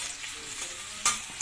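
Chili fries in a pan for Malaysian sambal, a close, steady sizzle with brief sharp spatters and stirring scrapes near the end, with no one talking.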